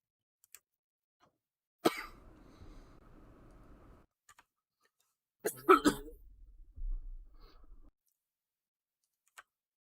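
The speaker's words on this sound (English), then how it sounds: "I'm gonna try to not let the coughing kill everybody else." A couple of bursts of coughing and throat clearing, close and fairly loud, separated by quiet gaps with a few faint clicks.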